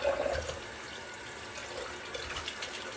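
Faint running water from a tap as a razor is rinsed after shaving with soap, a soft steady hiss and trickle, quiet and alone.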